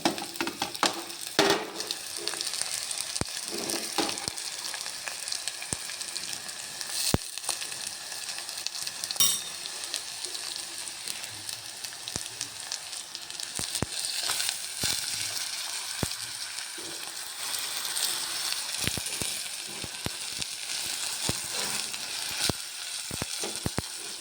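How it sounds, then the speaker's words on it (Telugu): Onions and ponnaganti greens fry in a hot pan with a steady, close sizzle, broken by occasional sharp clicks and scrapes of stirring. No one speaks. "ఉల్లిపాయలు ఆకుకూర వేసేస్తాను ఇందులో"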